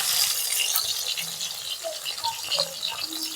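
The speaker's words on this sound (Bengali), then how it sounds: "এবার আমি বেগুনটা ভেজে নেব।" Eggplant frying in a pan with salt and turmeric added, a steady bright sizzle with soft crackles and faint clinks of utensils throughout.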